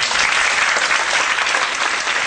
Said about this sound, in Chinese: 再次掌声鼓励